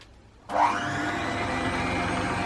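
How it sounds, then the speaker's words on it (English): An electric mixer mixes gluten-, lactose- and yeast-free gingerbread dough, switching on abruptly after a brief quiet moment and then holding a steady, close whirring drone. "And now we're going to mix everything together for one final time until everything is fully combined."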